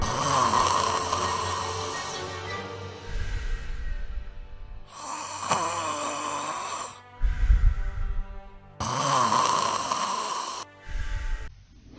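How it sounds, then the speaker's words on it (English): Loud, rhythmic snoring, several long rasping breaths in a row, each with a harsh vibrating buzz, separated by brief quieter inhales. "the narrowing results in mucosal vibration resulting in a snore"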